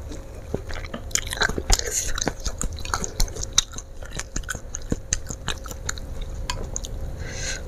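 Crunchy snack crackers made only from flour, with no fish, bitten and chewed close up, giving a run of sharp, crisp crunches and wet chewing clicks at an uneven rhythm.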